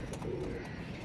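A pigeon coos softly amid steady background noise, a low murmuring call heard close by.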